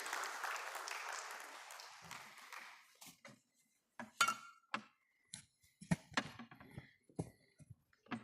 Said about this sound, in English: So with a huge round of applause, Devi aur Sajjano, swagat kijiye Dr.